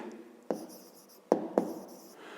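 A pen writes by hand on paper during a fifth-grade maths exercise, making a soft, close scratching broken by a few sharper taps, with no talking.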